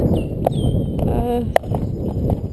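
A horse being led walks on, its hooves giving a few scattered clip-clop strikes, one sharp and close, under someone talking.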